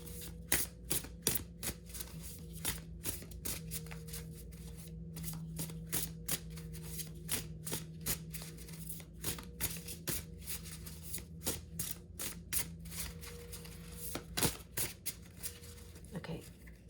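Sacred Creator oracle cards being shuffled by hand, a long run of crisp, rapid riffling clicks and snaps in irregular bursts, close and clear, with a person talking quietly underneath at times.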